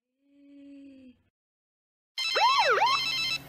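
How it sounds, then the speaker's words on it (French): A telephone rings in a French Christian animated episode, a bright electronic warbling trill that bursts in loud and close after a short, softer tone and a moment of quiet. "Et ce téléphone qui n'arrête pas de sonner"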